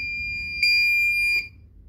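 A Bosch washing machine gives a shrill electronic beep, one pure steady tone held for under a second, clear and close with nothing else sounding.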